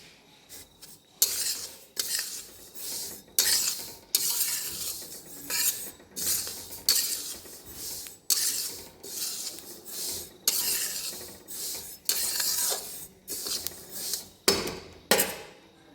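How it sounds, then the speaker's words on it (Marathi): Sesame seeds dry roasting in a pan for sesame-jaggery laddoos give off loud, close bursts of crackling and scraping in an uneven rhythm, with no talking. "असं चुटचुट आवाज येत असते भाजल्यानंतर"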